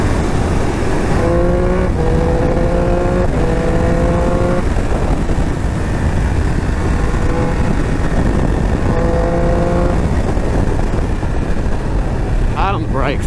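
Triumph Speed Triple 1200 RS motorcycle engine revving loudly and close on a first ride, with repeated rising rev sweeps, brief gear-change breaks and steady wind roar throughout.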